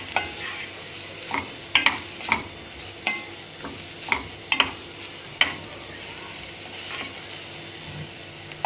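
Shredded boiled chicken is stirred into softened onions in a pan: a soft sizzle runs underneath while a spoon scrapes and taps the pan in irregular strokes every second or so.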